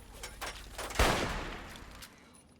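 A few hunting rifle shots in the Fallout 3 video game crack in quick succession, the loudest sharp report near the middle fading into a short tail, fairly faint overall.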